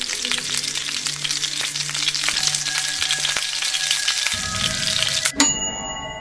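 Meatballs heat in an oven in the Roblox horror game 3008, with a steady frying sizzle and faint tones for about five seconds before a sharp clunk and a brief ding.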